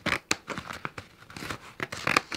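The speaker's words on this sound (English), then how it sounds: "Yes, I used my hair cutting scissors to cut this." Hair cutting scissors cut through wallpaper in a series of sharp, close snips and crisp paper crinkles, coming in an irregular rhythm of about a dozen quick bursts.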